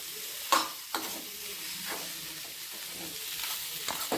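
Ingredients sautéed in oil in a pan for cauliflower gravy: sharp spatula scrapes and clicks recur every second or so over a continuous close sizzle, with no voices.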